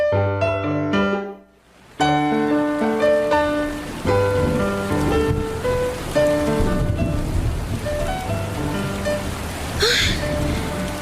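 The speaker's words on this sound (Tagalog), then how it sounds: "Grabe, ang lakas ng ulan." Heavy rain pours steadily outside a roadside waiting shed, a dense loud hiss that runs throughout, laid under background music that drops out briefly near the start.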